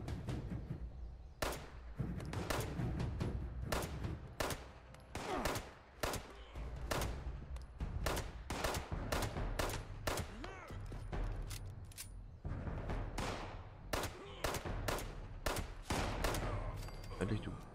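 Repeated gunfire from shooting supermutants in Fallout 76: sharp, fairly faint shots in quick bursts and single cracks, spread throughout over a low background hum.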